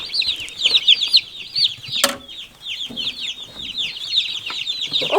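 Dozens of newly arrived meat chicken chicks on an Australian homestead peep in a dense, constant chorus of high chirps, with one sharp click partway through.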